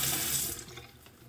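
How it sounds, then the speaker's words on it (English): A faucet runs over a damp makeup blending sponge, a strong steady hiss of water that fades after a moment and ends with a sharp clunk, close and with no talk. "run it under the faucet and then wring it out"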